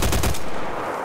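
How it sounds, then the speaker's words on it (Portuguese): Gunfire in a first-person shooter video game: a quick loud burst of rapid shots that cuts off after a moment and leaves a fading tail. "Mas depois consegui acertar alguns tiros."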